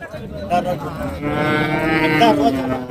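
Cattle moo loudly and close by at a busy cow market in Manapparai, with one long drawn-out call rising over the crowd noise and some voices in the background.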